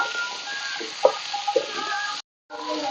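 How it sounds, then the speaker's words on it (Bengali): Chopped green tomatoes frying with onion and garlic paste in a pan, a steady close sizzle with a few soft stirring knocks, cutting out briefly near the end before resuming. "টমেটোর সাথে পেঁয়াজের সাথে একটু ভাজা ভাজা করে নেব।"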